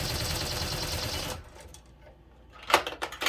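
Embroidery machine stitching a design onto a trucker hat, a rapid even mechanical clatter up close for over a second before it stops, followed by a few sharp clicks and knocks from the machine.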